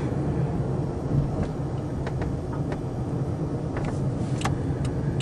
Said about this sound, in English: we suck the energy of motion back into the battery and we come to a stop